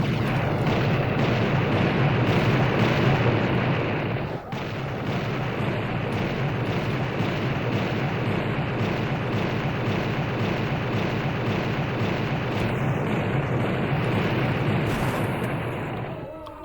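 Cerberus fires fireballs in a video game, a sustained, loud rumble of explosions and eruptions rolling on without pause, with a brief sharp crack partway through.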